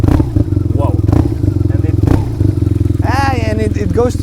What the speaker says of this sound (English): It's a very low note, and check out when you rev it up a bit.